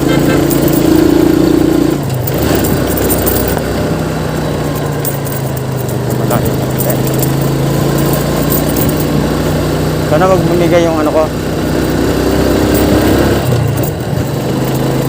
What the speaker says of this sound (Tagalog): Sana wag bumigay ang aking motor